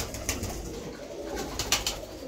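A pigeon coos up close, soft repeated throaty calls over a low background rumble, two or three clear bursts.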